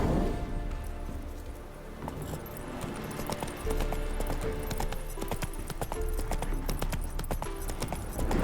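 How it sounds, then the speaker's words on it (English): In The Witcher 3, a horse spooked by ghosts trots with rhythmic clip-clop hoofbeats, its footfalls steady and fairly close over a murky game backdrop. "Roach doesn't like ghosts."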